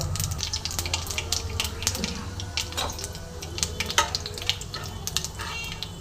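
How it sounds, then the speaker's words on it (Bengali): Black mustard seeds, dried chillies and radhuni spices frying in hot oil, with a continuous close sizzle, crackling seed pops and occasional spoon scrapes against the pan. "ফোড়নটা খুব সুন্দর করে ভেজে নেব যতক্ষণ না ফোড়ন থেকে সুগন্ধ বের হচ্ছে"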